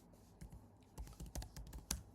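Code being typed on a computer keyboard, a quiet, close run of irregular key clicks and taps with small gaps between bursts.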